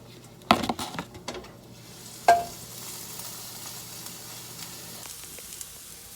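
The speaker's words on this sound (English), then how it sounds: "Get your garlic going." Garlic fries in oil in a pan with a steady, soft sizzle. A few sharp clatters from a utensil stirring come near the start and once more midway.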